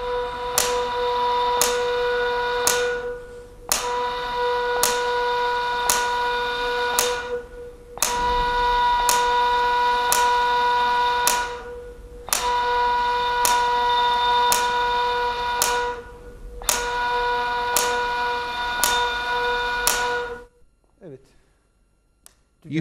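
A ney flute sounds the note duga (la) in repeated sustained blows, about five long held tones with short breaths between them, steady and fairly loud, ending in silence.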